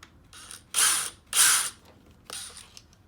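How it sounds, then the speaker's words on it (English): A power drill with a short bit starts shallow pilot holes in the wooden panel of an Arcade1Up arcade cabinet, giving three short whirring bursts with brief pauses between them. "I put my drill bit real short, but I know not to go all the way through"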